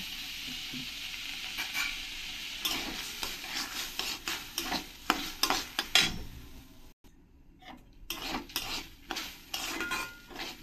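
Masoor lentils dry-roasting in an empty wok with no oil, a spatula scraping and stirring in an uneven rhythm and grains rattling against the metal, with a short pause midway before the stirring resumes.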